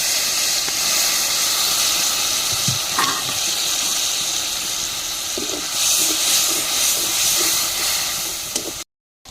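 Ground spices, cumin, coriander, chili and garam masala, sizzle in hot oil in a pan after water is poured in, giving a steady loud hiss and crackle with small pops that cuts off abruptly at the end.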